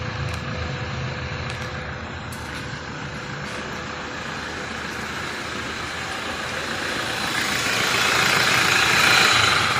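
A smoky diesel engine running on a mix of four rebuilt and two new injectors drones loud and steady nearby, rising in pitch and volume toward the end as it is revved to about 1500 RPM.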